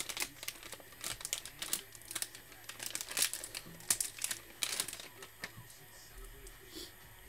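A Topps Now Formula One card pack is crinkled and tugged repeatedly as someone struggles to open it, with close, bursty plastic wrapper crackles in uneven clusters.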